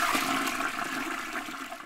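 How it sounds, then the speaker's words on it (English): A toilet flushes in one short, loud rush of swirling water, close and alone, cut off after a couple of seconds. "there are two space toilets on the ISS, which astronauts strap themselves into to use"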